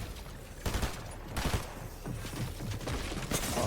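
Bursts of rapid gunfire from a Fortnite competitive match, several loud volleys and single shots crowding together over about four seconds, with no talk.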